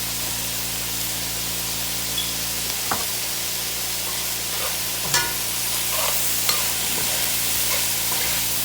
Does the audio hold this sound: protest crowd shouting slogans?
no